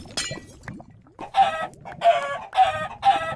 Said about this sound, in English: Damn it, I killed a chicken, but I need more food.